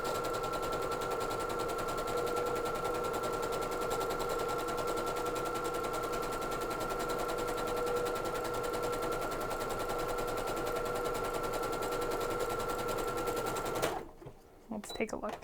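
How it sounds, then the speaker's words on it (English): A sewing machine stitches steadily with an overcast foot, running an overcast stitch in a continuous fast rattling hum for about fourteen seconds before stopping abruptly, with a few soft handling noises at the end. "You already have it on your overcast stitch, so just start sewing."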